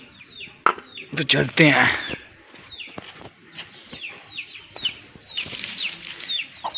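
Chickens cluck repeatedly nearby in short bursts, joined by bird calls, while someone talks briefly over them at the start.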